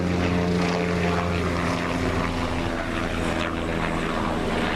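A helicopter drones steadily overhead, its engine a loud, continuous rumble with no pauses and no voices.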